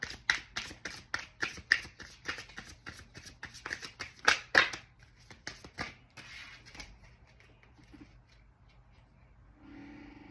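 A deck of cards being riffled and bridged in quick repeated bursts for several seconds, then a few softer flicks and quiet shuffling.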